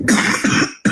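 A person coughs in two or three harsh, close bursts, the last starting abruptly after a brief silence.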